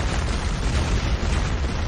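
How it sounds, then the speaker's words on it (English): A cannon fires in a dense, sustained booming blast that rumbles loudly and stays close, with no speech. "This cannon is truly formidable."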